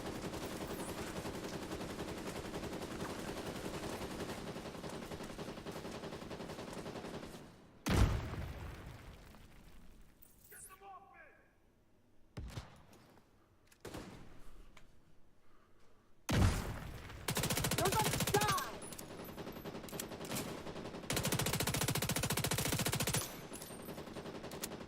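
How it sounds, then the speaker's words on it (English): Rapid video-game gunfire rattles loudly in long automatic bursts, broken by sharp blasts, brief quiet gaps and then renewed firing in a firefight with boats and bombs. "You shouldn't be able to fire that many bullets."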